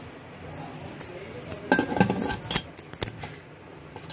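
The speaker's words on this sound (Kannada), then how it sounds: "ಈಗ ನಾನು ಕುಕ್ಕರ್ ಮುಚ್ಚಳ ಮುಚ್ಚಿಬಿಟ್ಟು" A steel pressure cooker lid is set and locked in place in a home kitchen, giving a few close metallic clinks and clatters in a short burst with no talking.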